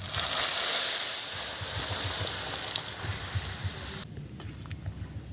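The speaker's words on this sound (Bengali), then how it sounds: "এবার আমি ডালটা ঢেলে দেব।" Dal poured into a pan of browned fried onions, a loud steady hiss and sizzle that settles slightly after a few seconds, continuing without speech.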